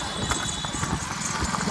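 Horse hooves clip-clop at a slow walk on a road during a Durga darshan outing in Bhagalpur, loud and close, with people talking over them.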